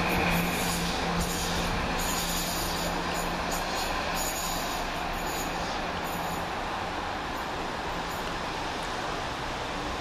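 A Chiltern Railways train at Stratford-upon-Avon Parkway station rumbles steadily and close for the whole stretch, with a sustained wheel squeal and hiss over the broad running noise and no talk.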